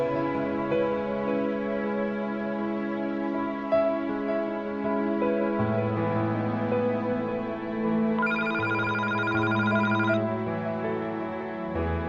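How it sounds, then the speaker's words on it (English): A telephone rings on and on during an award ceremony speech, its steady tones sounding for about twelve seconds and changing pitch partway through, with no talking over it. "the phone hasn't turned off yet"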